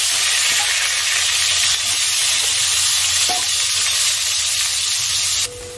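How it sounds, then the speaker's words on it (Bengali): Potato pieces rubbed with turmeric and salt fry in a pan of oil with a dense, steady hiss and sizzle, loud and close throughout, easing off slightly at the end. "ভেজে নিচ্ছি হলুদ লবণ মেখে"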